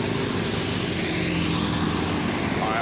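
An ALS intercity bus out of Medan rumbles past on the road, a steady loud engine and tire roar that fills the moment without pause.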